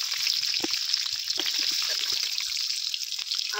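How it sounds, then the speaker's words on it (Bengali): Whole garam masala, bay leaf and slit green chilies frying in hot oil, a steady close hiss with small scattered pops and crackles throughout. "তেলেতে দিয়ে দেব গোটা গরম মশলা, তেজপাতা, কাঁচা লঙ্কা চিরা দিয়ে দিচ্ছি"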